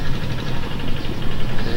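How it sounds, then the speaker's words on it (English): A hand tractor engine runs steadily while preparing a rice paddy, giving a close, continuous low rumble and chugging with no break or pause. "they're doing preparation over there with a"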